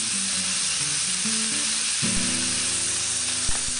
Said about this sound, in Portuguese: Sela a gordura.